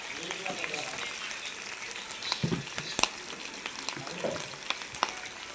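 Ginger paste and turmeric fry in a pan for a cabbage dish, with a steady crackling sizzle and scattered pops and a few spoon clicks, a voice talking over it.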